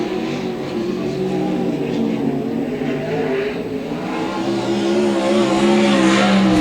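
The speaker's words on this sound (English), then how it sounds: "Now we're underway. 2 laps against the time clock in Pro Sprint Car qualifying." Pro sprint cars on a dirt oval during timed two-lap qualifying, engines roaring steadily and loud throughout, with a sustained high-revving drone and no voices.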